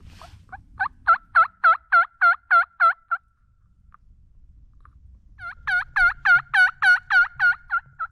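Wild turkeys gobble in two rapid bursts of about eight calls each, loud and fairly close, separated by a few seconds of quiet on an open road in the countryside where a flock of about forty birds stands.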